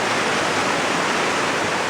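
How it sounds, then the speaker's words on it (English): Waterfalls on a hiking trail near a streamside camp roar loudly and close by, a constant, dense rush of water with no voices. "Unbelievable waterfalls. Aren't they just gorgeous?"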